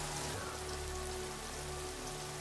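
Heavy rain pours steadily in a scene from the film John Wick, a dense, constant hiss of drops striking surfaces with no break and no voices.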